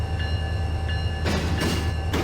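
Freight train rolling in the Run 8 Train Simulator video game, a loud steady rumble with low diesel drone and rhythmic clicks of wheels over rail joints, no talking.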